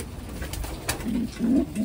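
A racing pigeon coos softly in low, throaty bursts against a steady background hiss as it arrives home after a 517 km race.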